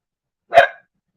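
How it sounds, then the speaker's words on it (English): A single short, sharp dog bark sounds close by in an otherwise silent indoor space. "now Onyx is barking"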